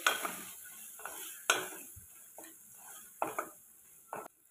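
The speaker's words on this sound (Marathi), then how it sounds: "आता हा जो पांढरा घेवडा आहे तो घेवडा घालून घेणार आहे। सर्व छान असं परतून घ्यायचं आहे 1 मिनिट तेलामध्ये" White beans being sautéed in oil with spices in a pan, heard as bursts of stirring and scraping with a light sizzle, several distinct strokes spaced about a second apart, close and moderately quiet.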